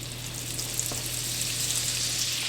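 Butter melting into hot bacon grease in a pot for potato soup, a close, even hiss and crackle of sizzling fat that stays steady throughout.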